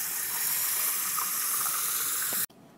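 Water poured from a tap over dry cashew nuts to soak them, a steady hissing splash lasting a couple of seconds before stopping abruptly.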